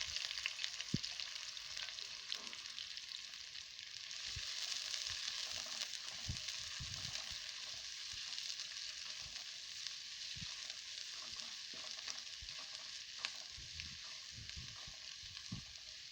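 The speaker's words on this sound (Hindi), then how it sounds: "अब हमने प्याज़ों को फ्राई करना है जब तक ये लाइट ब्राउन ना हो जाए" Onions frying in a pan for a sweet beef salan give off a steady, soft sizzle with occasional stirring scrapes, continuous throughout and fairly quiet.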